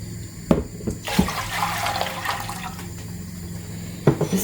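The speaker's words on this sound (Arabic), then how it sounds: "نجيب طنجره ندير فيها 2 كيلات نتاع الماء" Water pours into a cooking pot in a continuous splashing stream, with a few sharp knocks and clatters at the start and end, close and fairly loud.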